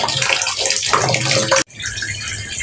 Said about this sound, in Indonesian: Selanjutnya kita tunggu airnya penuh, baru bentar lagi kita tiriskan.